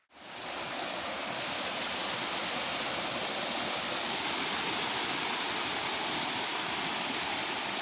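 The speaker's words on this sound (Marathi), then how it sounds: "पाणी पडल्यामुळं आमच्या इकडे एक धबधबा तयार झाला आहे, छोटासा आहे." Small natural waterfall formed after rain, a loud continuous rushing roar of falling water heard close up, steady from start to end with no voices.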